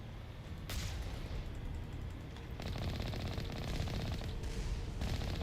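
Rapid rocket fire in the video game Mass Effect: Legendary Edition, heard as dense bursts of crackling shots that come in waves over a constant rumbling battle din.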